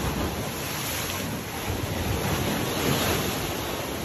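Steady roar of sea surf washing in, broadband and continuous with gentle swells, mixed with wind buffeting the microphone.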